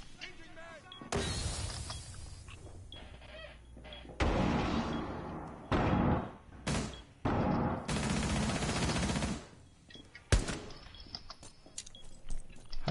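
Gunfire in Rainbow Six, several bursts of automatic shots and sharp impacts separated by quiet gaps, with players talking in between and over the shooting.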